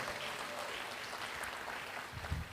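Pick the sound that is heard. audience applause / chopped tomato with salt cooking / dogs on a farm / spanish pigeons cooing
audience applause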